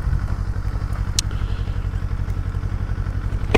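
A Royal Enfield Classic 500 single-cylinder motorcycle thumps along with a steady, fast, low-pitched beat at close range, with a few faint clicks over the top.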